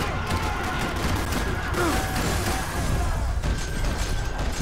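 Sustained gunfire in the video game Max Payne 3, a dense, continuous rattle of shots blending with background game noise, loud throughout with no clear pauses between bursts.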